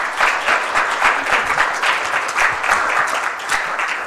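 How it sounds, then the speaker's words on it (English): Steady audience applause from a crowd, loud and sustained with dense overlapping claps throughout. "Let's give him another round of applause."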